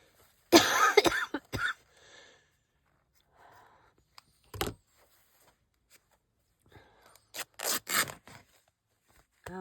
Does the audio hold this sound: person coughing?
yes